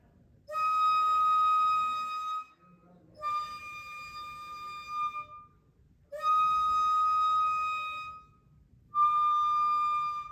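A breathy 1.6 bamboo flute, shakuhachi, plays long held notes in the high register, alternating between two pitches in slow, even phrases with short gaps between them.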